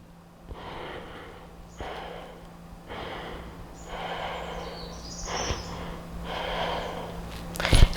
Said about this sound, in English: The second form causes only the chest to expand a little bit during inhalation.